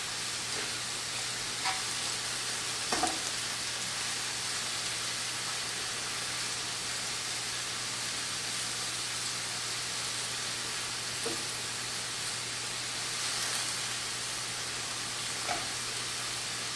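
Something sautés in a pan as its liquid cooks off, a steady, moderate hiss of sizzling that continues evenly throughout with only a few faint clicks, over a low background hum.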